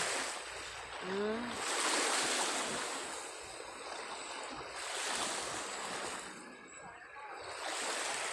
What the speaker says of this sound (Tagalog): Pero gabaud-baud na.